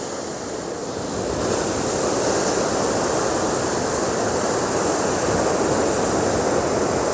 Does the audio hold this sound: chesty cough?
no